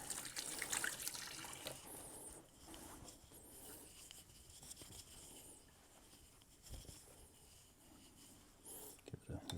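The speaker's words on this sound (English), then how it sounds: "Wash off the hands." Hands rinsed under a running kitchen tap while preparing steak tartare, a steady wash of water with splashing and patter running throughout, loud at first and easing off, with brief bursts near the end.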